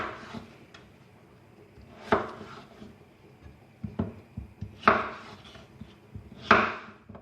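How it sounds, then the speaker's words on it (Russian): A knife cuts a medium-sized potato on a board, a few sharp thuds spaced out over quiet kitchen background noise. "Вот такую вот картошину среднего размера разрезаю напополам и затем половинку еще на 4 части."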